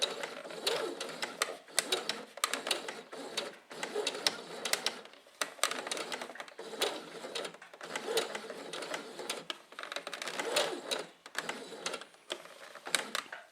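Sewing machine stitching curves and angles in fabric with a straight stitch, running in close bursts of rapid whirring separated by short pauses as the cloth is turned.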